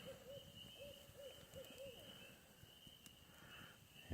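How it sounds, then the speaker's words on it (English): An owl hoots repeatedly at night near a shelter build in the woods, a series of soft rising-and-falling calls at moderate distance over a faint steady background hum. "Ooh, I'd never heard that here before. Owl, obviously."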